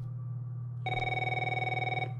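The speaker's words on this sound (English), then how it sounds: "Press T to answer the phone" A telephone rings in the horror video game Until Lights Out: a loud, sustained electronic bell tone starts abruptly after a quiet hum and holds steady for over a second before cutting off.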